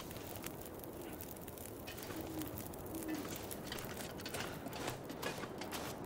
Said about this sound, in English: I don't know what that bird is, but it is terrifying